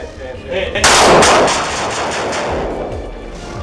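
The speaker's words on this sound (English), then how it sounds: "Gunfire erupted." Gunfire breaks out during a police confrontation with criminals, a loud close blast followed by a long rolling echo, with a few fainter pops behind it.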